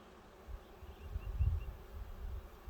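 Honey bees buzz around an opened hive during an inspection while a honey super is added, a faint, low, swelling drone that builds toward the middle and then settles.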